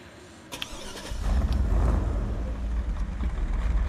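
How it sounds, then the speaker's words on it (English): Engine of the 75 Crawler truck in the Snowrunner video game starting up: a short click and crank, then a deep, loud rumbling idle that settles into a steady low growl, close and alone. "Engine fires up. Sounds good."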